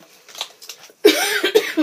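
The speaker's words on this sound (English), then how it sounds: "I'm like battling this cough thing" A few quiet breaths, then a sudden loud cough close up, followed by a strained throaty burst and another short cough.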